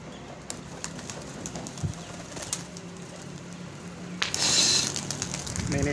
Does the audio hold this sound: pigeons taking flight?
yes